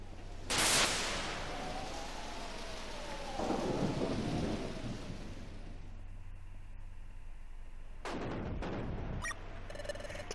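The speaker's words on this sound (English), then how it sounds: "Wow, that lightning's intense." A thunderstorm in Pokemon Mystery Dungeon Explorers of Sky: two sharp thunder cracks with lightning, the first early and the second near the end, over a constant wash of rain on a surface.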